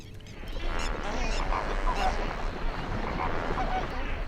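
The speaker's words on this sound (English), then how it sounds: "Thousands of resident and migratory birds feel secure, even in the heart of a bustling village" Resident and migratory birds call in a bustling village, with honking goose-like cries scattered over a dense, steady background din, and a voice faintly present underneath.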